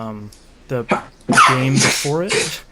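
A single sharp sneeze breaks in among people chatting casually, loud and close, followed by continued talk.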